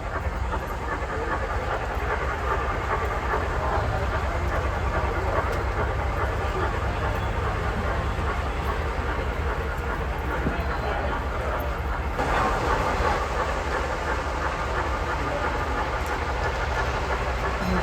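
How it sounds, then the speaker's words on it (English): Locomotives running at a railroad festival give a steady low rumble and rolling rail noise, with a busy outdoor crowd murmuring underneath throughout. "The race of the locomotives right over here."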